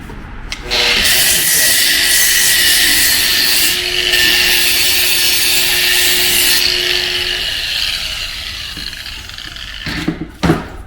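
Coarse grit pad rubbing along the edge of a marble tile makes a loud, continuous abrasive scraping for about nine seconds before stopping, close by.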